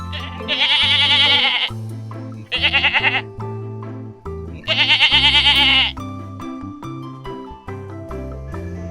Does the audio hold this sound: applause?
no